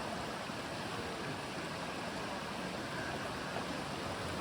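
A creek near a camping area flows with a steady, broad rushing wash, constant and moderately close, with no voices over it.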